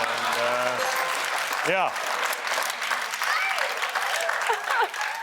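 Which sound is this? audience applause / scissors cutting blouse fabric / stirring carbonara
audience applause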